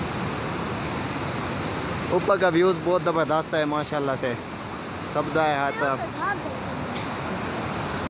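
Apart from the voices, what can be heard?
clear mountain water flowing from rocks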